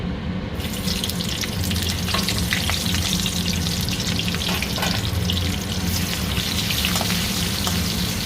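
Food fries in hot oil in a pan, a dense, loud, continuous sizzle with scattered crackles and pops running throughout, close up and free of speech.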